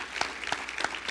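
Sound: audience applause

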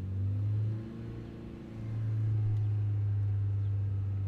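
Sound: Skoda Octavia 1.8T 20V engine revving to 3000 RPM

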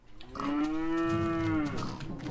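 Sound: cow mooing in Minecraft video game

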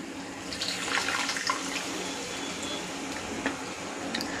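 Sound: water being poured into curry

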